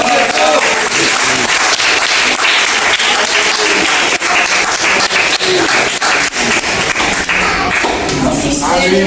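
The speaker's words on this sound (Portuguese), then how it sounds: "As palmas todas." A congregation claps loudly and rhythmically close by through a worship song, the dense, driving claps running unbroken the whole time with singing voices mixed in.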